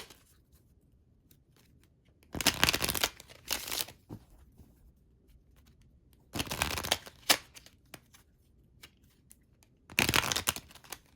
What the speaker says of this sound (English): why are these cards shuffling like this?